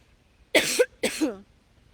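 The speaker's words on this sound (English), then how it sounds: "I don't know why I'm coughing so much right now" Two harsh, close coughs in quick succession, each a short rasping burst, followed by quiet.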